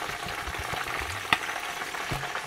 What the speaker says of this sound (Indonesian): Saya harus kasih masuk air sekarang.